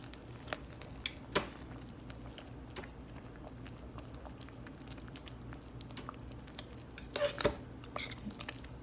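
Birria taco meat being stirred in a pot: quiet spoon scrapes and clinks against the pot with soft wet squishing, a couple of sharper knocks early on and a cluster of clatters near the end, over a low kitchen hum.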